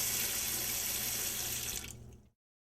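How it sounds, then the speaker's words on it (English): Water runs steadily into a pan in a close, continuous stream for about two seconds, then cuts off abruptly into silence. "And now we're going to add a little water."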